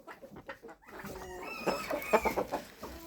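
Backyard chickens cluck in a series of short, close calls, growing busier and louder toward the end, with a dwarf hen among the flock and no talking.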